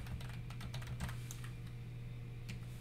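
HTML code typed on a computer keyboard: rapid, close key clicks in quick irregular bursts over a steady low electrical hum, with the clicking thinning out toward the end.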